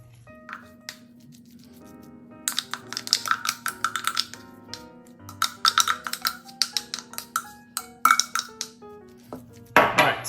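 A utensil scoops a mushroom mixture out of a food processor bowl, producing a run of irregular close clinks, taps and scrapes against plastic and metal over a low steady hum.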